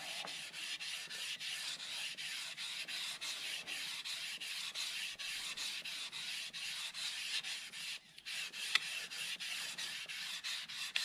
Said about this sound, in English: We're just making sure it's smooth and taking all those 320 grit scratches out.